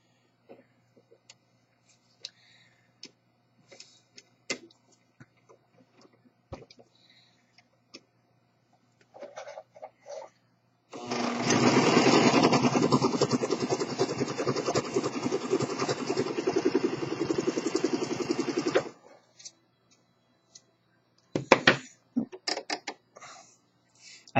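Singer Professional Pro 5 serger sewing with its cutting blade fully engaged, a loud dense whir lasting about eight seconds, framed by quiet clicks and handling ticks before and after.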